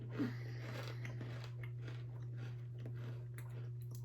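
Close chewing and crunching of a tiny cigar-shaped savory Thai snack, a run of soft crackly bites spread over several seconds above a constant low hum.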